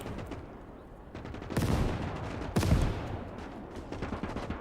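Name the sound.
grenade thrown in video game Call to Arms Gates of Hell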